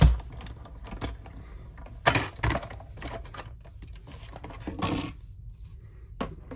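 A die-cutting machine feeds cardstock through for a papercraft kit project, giving intermittent mechanical clicks and rattles with a few louder grinding bursts, close up and with no talking.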